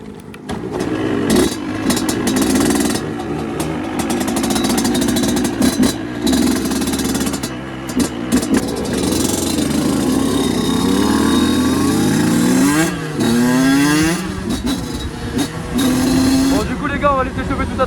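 Several 50cc motorcycles idle while warming up, their engines running loud and continuous throughout with rising revs near the end and a person talking over them.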